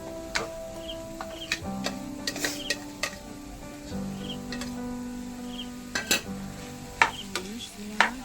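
Chicken mince goes into a pan and is stirred, with a soft background sizzle broken by scattered sharp clinks and taps of a utensil against the pan, irregular and close.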